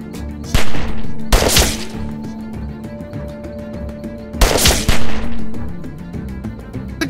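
Gunfire in the zombie game The Walking Dead: 400 Days, loud close bursts of several shots in two clusters over a humming, tonal game score.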